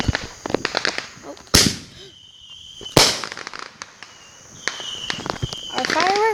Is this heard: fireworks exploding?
yes